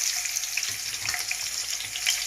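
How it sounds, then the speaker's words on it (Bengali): Hilsa fish lightly frying in hot oil, a dense, steady sizzle with soft crackles close by for a couple of seconds, no voices. "এখন হালকা করে আমি মাছটা ভেজে নেব।"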